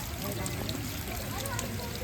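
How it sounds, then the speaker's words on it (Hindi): A small waterfall stream beside the footpath to the Gagangiri Maharaj ashram makes a steady, continuous rush of splashing water, close and fairly loud, with no voices. "ये छोटा छोटा झरना जो कि रास्ते में आपको देखने को मिलेगा"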